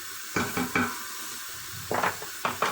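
Tomato paste stirred into chickpeas in a hot pan, with a few short scraping stirs and soft sizzling bursts spaced apart, fairly close and alone.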